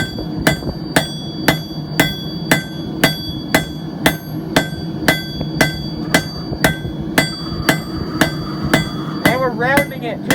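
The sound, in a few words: hammer forging and tapering hot steel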